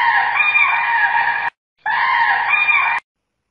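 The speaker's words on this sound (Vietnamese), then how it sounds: "Con cò." A stork calls twice in loud, harsh, screeching bursts, each about one and a half seconds long, separated by a short silence, with no voices.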